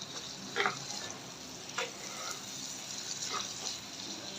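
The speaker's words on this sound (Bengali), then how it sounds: "শুকনিটা নাড়াচাড়া দিয়ে দেবো" Dried fish (shutki) frying with tomato, onion and green chilli while being stirred in a pan: a soft, steady sizzle with a few scraping stirs at intervals.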